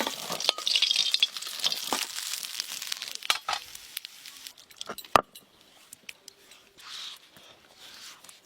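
Hilsa fish heads frying in hot oil give a crackling, crinkly sizzle with scattered sharp pops, loudest early and easing to sparse crackles, with no talking over it.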